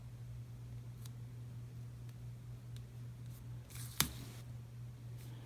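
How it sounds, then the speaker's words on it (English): A single quick snap and rip as Recollections washi tape is cut against an Erin Condren ruler, standing out briefly from a quiet room with a low steady hum. "I'm using my Erin Condren ruler to cut this washi tape"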